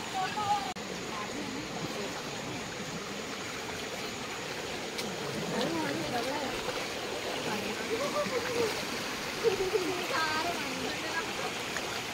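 A river below the Pahine Necklace Waterfall near Trimbakeshwar flows with a steady broadband rush and trickle, a few small splashes rising now and then, while people talk nearby.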